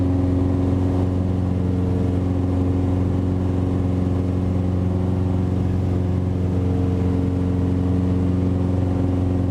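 A Mooney light airplane's piston engine in flight, a loud constant drone with steady harmonic tones inside the cabin, unbroken and without speech.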